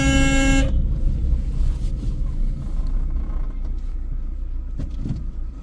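A loud car horn blares at the start, a short sustained honk, then fades into a low rumbling street background.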